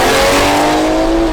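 BMW M340i with a Dinan valved exhaust on the B58 engine, a loud, close, continuous throaty engine tone sustained for a moment, with no talking.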